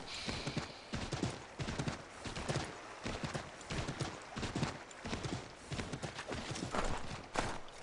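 A horse in Assassin's Creed III clops steadily over ground, its hooves striking in a dense, continuous rhythm close by, with a neigh mixed into the run of hoofbeats.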